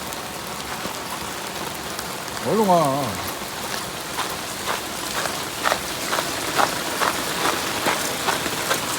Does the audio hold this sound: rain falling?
yes